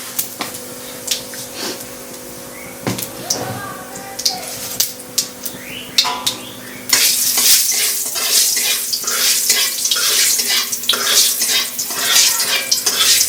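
White cumin seeds hit hot oil in a pan partway through as the food goes in for a Bengali potol and prawn dish, giving a loud steady sizzle that follows softer clinks and stirring.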